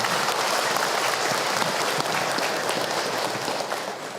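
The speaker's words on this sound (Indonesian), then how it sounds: "Tepuk tangan buat ayahanda beliau." Sustained audience applause at a religious lecture, dense steady clapping from a crowd throughout, fading slightly toward the end.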